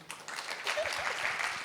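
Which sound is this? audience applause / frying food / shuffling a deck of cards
audience applause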